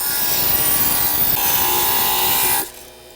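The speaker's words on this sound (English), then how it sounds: "So we just take the grinder," A small rotary grinder buzzes against the edge of a 1/24 scale model window, a steady high whine that shifts pitch midway and cuts off abruptly near the end.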